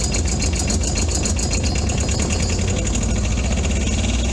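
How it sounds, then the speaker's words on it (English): An Arctic Cat 700 SD diesel ATV runs at a steady raised speed, a loud close engine drone with a fast knocking pulse and no speech over it. "But Sandy, you want to rev it up a little bit, like when you're driving it?"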